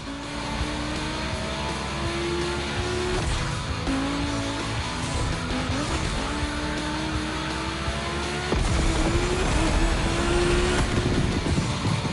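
Volkswagen cars racing in the video game The Crew Motorfest, with loud sustained engine whine, rising revs through gear changes and tire squeal, a continuous dense roar that grows louder toward the end.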